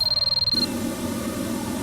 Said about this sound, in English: Es el teléfono de nuevo.